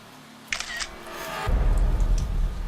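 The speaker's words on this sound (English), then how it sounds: "The sound of a digital camera shutter, accompanied with a blindingly bright flash coming from an adjacent room" A digital camera shutter sound effect, a quick mechanical click-and-whir lasting under half a second, heard over a low ambient drone that swells into a deep rumble.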